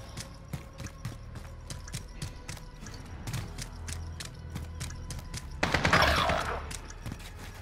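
Gunfire in a Modern Warfare multiplayer match: sharp, rapid shots in quick bursts, fairly close, followed by a louder burst of noise near the end, with faint voices in the background.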